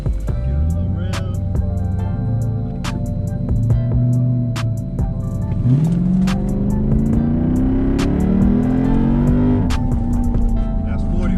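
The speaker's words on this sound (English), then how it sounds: "Foot on brake. Give it a little rev." Jeep Grand Cherokee SRT8 V8 with straight-pipe exhaust, close and loud, rumbling at idle then revving up in several rising pulls with crackling pops; people talk around it.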